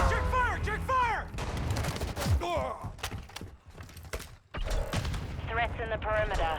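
Sharp bursts of gunfire from a Call of Duty Modern Warfare team deathmatch ring out in quick rounds, mixed with thuds and mechanical clatter, while in-game soldier voices shout callouts over much of it.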